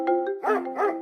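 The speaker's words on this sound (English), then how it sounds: "Barked the dog." A dog barks twice in quick succession, close and fairly clear, the two barks rising and falling after a brief tonal note at the start.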